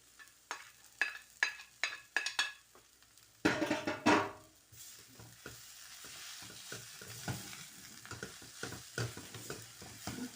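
Spinach and carrot sautéed in a pan, with repeated stirring scrapes and a brief louder burst of sizzling partway through, then a steady soft frying hiss under continued light stirring.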